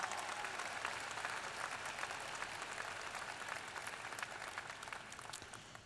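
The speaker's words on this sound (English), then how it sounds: "Let's give them a round of applause." Sustained applause from a large audience at a university spring commencement, honoring retirees, a dense steady wash of clapping that continues at even strength for about six seconds.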